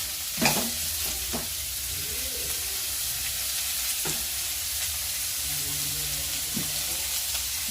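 Vegetables frying in a pan as the base for a dalia (broken wheat) pulao, a soft steady sizzle with a few scattered spatula taps and scrapes, fairly quiet and close.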